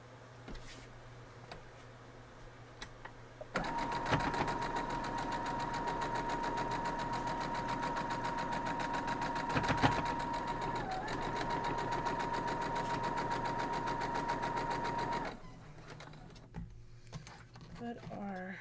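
Sewing machine running steadily while stitching a quilt block seam for a wild geese fancy flight block, a continuous close whirring hum lasting about twelve seconds before stopping, with quiet room sounds on either side.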